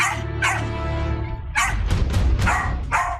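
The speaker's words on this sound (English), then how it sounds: "There was an awful lot of barking" A dog barks loudly and close, in several bursts separated by brief pauses, with a whimpering yip in between.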